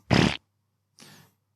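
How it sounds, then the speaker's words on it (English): Two short farts, the first loud and buzzy, the second quieter and airier after a brief pause, close up with nobody talking. "Fart."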